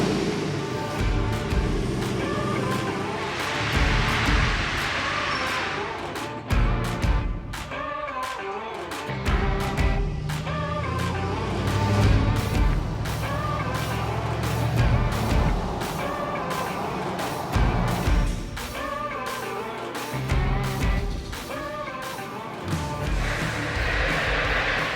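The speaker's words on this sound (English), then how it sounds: "And we're gonna take the truck out for a quick drive." A Chevrolet Silverado truck with custom LED headlights drives along, its engine and road noise loud and continuous, with brief hiss-like bursts and shifting rumble as it moves.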